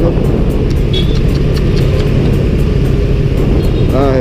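Steady, loud road traffic in Manila, heard from a motorcycle near the LRT line on EDSA: a dense engine and road roar running continuously, with a brief horn or whine near the end.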